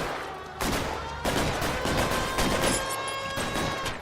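Dense gunfire crackles in the video game L.A. Noire, loud rapid overlapping shots and bursts filling the whole stretch without pause.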